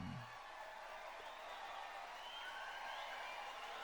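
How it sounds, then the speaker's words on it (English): Distant crowd of people cheering from far below, a broad, faint roar of massed voices that swells steadily and holds without pause. "Suddenly a huge cheer, akin to the rumbling of the very earth itself, came from the people below."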